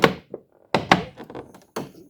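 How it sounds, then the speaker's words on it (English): A Hobby Master die-cast model box lid being opened: a few close, dull cardboard thunks and taps in separate bursts, with short silences between them. "We'll get that lid open and have a little look."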